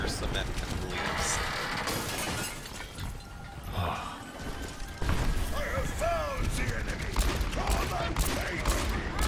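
Gunfire from an Overwatch match, with rapid bursts of shots, crashes and shattering impacts piling into a loud, chaotic fusillade, and a person talking over the din.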